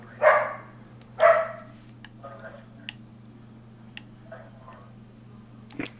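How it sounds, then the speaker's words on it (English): A dog barks twice in quick succession indoors, sharp and fairly close, over a steady electronic hum from a gaming setup, followed by scattered faint clicks and taps. "my dog's having a temper tantrum"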